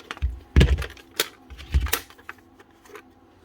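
A rubber cover is pulled and peeled off a VENLAB multimeter, giving a few close, dull thumps and soft scraping clicks in quick, irregular bursts.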